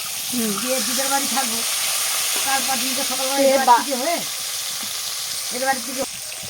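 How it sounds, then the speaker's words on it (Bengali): Small pond carp frying in oil in a wok, a steady broadband sizzle running throughout beneath a person's voice talking over it. "দেখো মাছগুলো দিয়ে দিয়েছি কড়াইতে"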